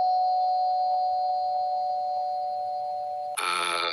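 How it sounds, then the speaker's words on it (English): A sustained electronic ringing tone holds steadily for several seconds, then a brighter chiming burst cuts in abruptly at the end. "I know the doorbell didn't ring at 1:12 a.m."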